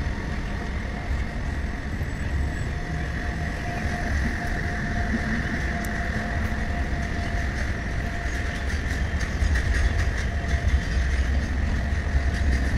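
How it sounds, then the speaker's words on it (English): An Indian military train with its wagons rolls past at speed, a steady rumble and rattle of cars on the rails with a faint tonal hum, heard from close beside the track. "Military car, military train."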